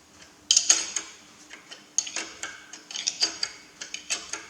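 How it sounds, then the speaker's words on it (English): Trimming excess gasket off the trumpet housing of a Massey Ferguson MF135 tractor during restoration: a series of sharp, close clicking snips in an irregular rhythm, separated by brief quiet gaps, with no talking. "I'll go around there now and I'll trim all that gasket off"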